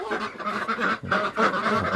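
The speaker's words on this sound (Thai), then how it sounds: "คลิปนี้ก็จะพามา ปล่อยเป็ดนะครับ" Laying ducks let out of their pen in the morning quack and honk loudly and continuously, several birds calling over one another close by.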